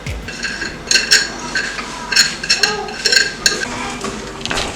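Food being stirred in a pot during homemade sushi preparation, with repeated clinks and scrapes of a utensil against cookware in an uneven rhythm at close range, no talking.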